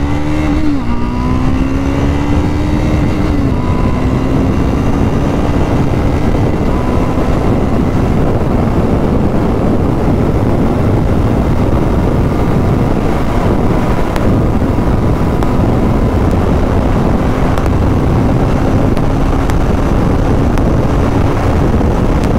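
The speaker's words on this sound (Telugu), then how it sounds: "ఎగ్జాస్ట్ సౌండ్ అయితే కొద్దిగా లౌడ్ ఉంది. ఫస్ట్ గేర్ వేసా." A Triumph Scrambler 400 X motorcycle exhaust drones loudly and continuously while riding, with gear-change dips in pitch early on and heavy wind buffeting over the engine throughout.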